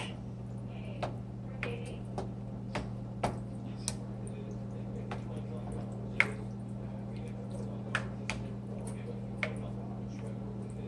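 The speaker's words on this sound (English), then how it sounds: "So give it a great stir." Baked beans with meat and sauce being stirred in a pot, with soft wet squishes and drips at irregular intervals over a low steady hum, and no talking.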